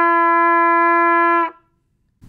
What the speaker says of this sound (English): And then if I want to get a higher note, I can make the lip opening a little bit smaller